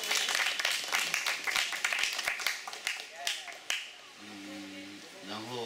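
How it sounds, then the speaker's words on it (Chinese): Light scattered clapping from a small audience for two people, a few quick uneven claps near the start fading out, followed by voices talking. "我们再给两位微微掌声鼓励"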